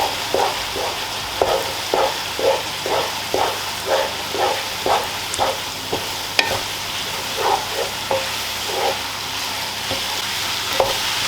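A spoon stirs tomato paste through a pan of bolognese sauce with steady, rhythmic scraping strokes about once a second over a soft sizzle, close and moderately loud with no talking.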